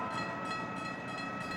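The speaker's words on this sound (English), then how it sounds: "A long, slow-moving train would be one of those." A long, slow-moving train rolls past with a steady, loud rumble and broad rail noise, a constant wash with no pauses and no voices.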